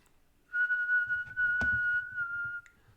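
A person whistles a single steady, near-pure tone lasting about two seconds, clear and close, with a brief click in the middle and faint low rustling underneath.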